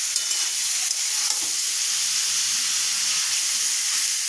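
Small pieces of pointed gourd (potol) fry in a pan with a steady, loud sizzle and hiss, broken by a few soft stirring scrapes, with no voices.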